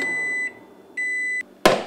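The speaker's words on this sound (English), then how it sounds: "add the lid, and into the microwave they go" Microwave oven heating sweet potatoes in a lidded pasta boat, giving off two steady electronic tones with a gap between them, then a sharp louder click or clunk at the end. The sounds are close and clear, with no talking.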